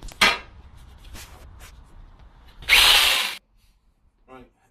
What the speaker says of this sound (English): I'm just going to tidy it up a bit more with the jigsaw